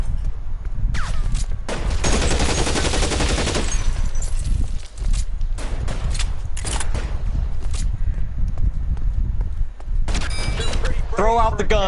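Shootout in the crime game LA Noire, with loud bursts of rapid gunfire broken by short pauses and scattered single cracks over a constant low rumble. A voice briefly calls out near the end.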